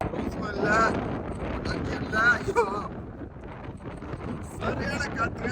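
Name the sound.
strong wind on a cruise ship deck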